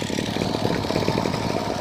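A brush cutter's small two-stroke engine idles close by on the leftover fuel after its fuel valve is shut, a steady, rapid, buzzing putter that holds at the same level with no voices.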